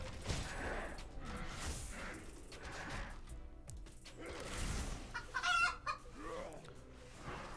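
A chicken clucks in a video game amid dense, busy game noise and music, the clucks blending into the steady clutter rather than standing out alone.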